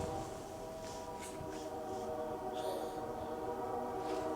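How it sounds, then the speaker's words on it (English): A steady low rumble of a passing train with sustained tonal bands like a horn, continuous and fairly loud throughout. "we're waiting for that train to go by"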